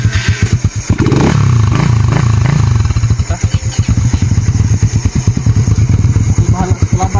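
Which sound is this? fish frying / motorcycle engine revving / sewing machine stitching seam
motorcycle engine revving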